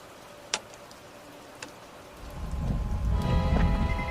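Steady rain from a storm, heard inside an airplane, swells in as a dense rushing patter after a couple of quieter seconds with a few sharp ticks.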